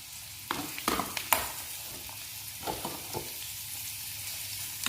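Mushrooms fry in hot oil with a continuous close sizzle, punctuated by a few sharp stirring scrapes and clatters early on, then settling into a steady hiss.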